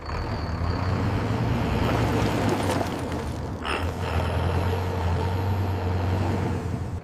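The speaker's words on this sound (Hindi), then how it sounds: "विक्रम, ये अशोक लीलैंड है और चलाने वाले तुम हो।" An Ashok Leyland truck turning off onto a village road, its engine a steady loud rumble throughout, with a hissing burst of air brakes partway through.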